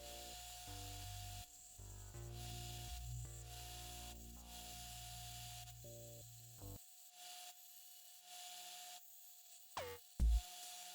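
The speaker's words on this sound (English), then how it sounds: "Now we're going to go ahead and sand them all nice and flush" Steady rubbing and sanding of wood blocks flush for a sliding box lid for several seconds over a low droning hum, then it stops, leaving quiet with a few knocks and clatters.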